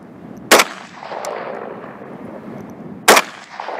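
Two loud rifle shots crack about two and a half seconds apart on an outdoor shooting range, with a steady low background rumble between them.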